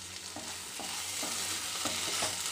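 Black pepper mushroom fry cooks in a pan, a quiet steady sizzle broken by regular scraping stirs about every half second, close but soft, with no voices.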